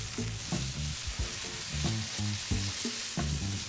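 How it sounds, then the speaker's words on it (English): Smash burger patties sizzle on a flat griddle in a steady, close frying hiss, with repeated metallic spatula scrapes and clanks across the cooktop and no talking. "these Smash Burger patties are ready to flip"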